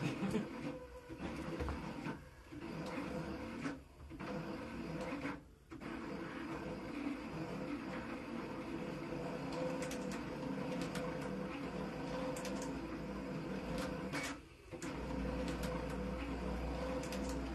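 A vinyl cutter cutting vinyl, a steady close mechanical whir with brief pauses and carriage shifts, running on while the blade double cuts each line.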